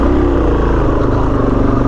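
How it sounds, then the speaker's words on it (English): A KTM 790 Adventure motorcycle riding a single track trail, close and loud, with a throbbing engine note that pulses evenly and rises slightly under throttle. "He's gonna ride this single track trail on his 790 adventure."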